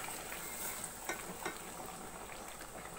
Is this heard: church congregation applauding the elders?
no